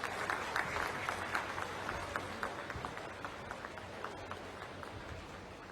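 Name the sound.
audience applause for the Prime Minister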